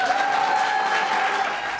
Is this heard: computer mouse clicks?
no